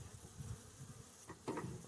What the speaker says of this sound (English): There's quite a few bees in there